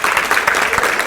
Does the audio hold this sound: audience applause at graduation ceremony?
yes